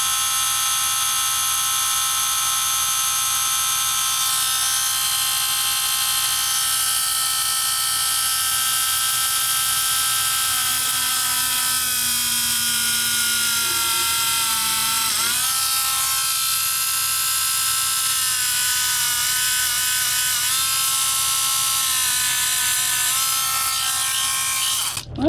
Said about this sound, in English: Now I'm going to finish drilling the rest of them